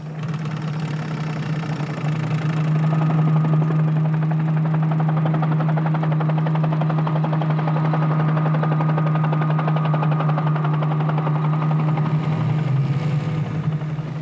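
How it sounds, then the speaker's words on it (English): A helicopter flies overhead on aerial reconnaissance above a river region, its engine and rotor making a steady, loud drone that holds constant throughout. "will guide the helicopter in its aerial reconnaissance"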